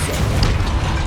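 A Depulso force spell in Hogwarts Legacy lets out a short, loud, booming blast, one dense burst with a slight pop at its onset, close and alone.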